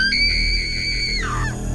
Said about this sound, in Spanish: Todas dormían cuando escucharon un grito desgarrador